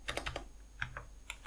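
Computer keyboard typing, a quick burst of light key clicks followed by a few spaced taps, close and quiet with no voices.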